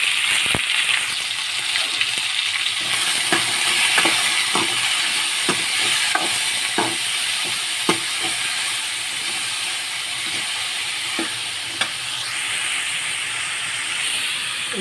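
Capsicum, onion and tomato frying in a pan while being stirred, a loud continuous hiss and sizzle with periodic sharp spoon scrapes and taps against the pan, close up.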